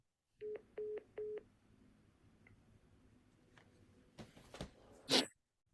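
Telephone keypad tones dialing in to join a Zoom meeting by phone: three short, evenly spaced beeps near the start, followed by quiet background and a few louder knocks and handling sounds near the end.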